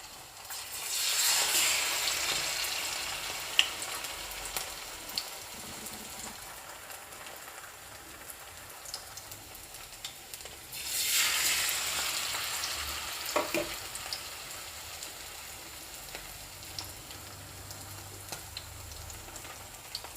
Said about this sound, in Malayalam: ഒരു അഞ്ച് മീൻ വീതം നമുക്കിതുപോലെ മുക്കി വറുക്കാം